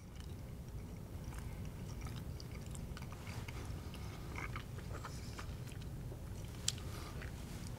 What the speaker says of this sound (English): You just chew that up.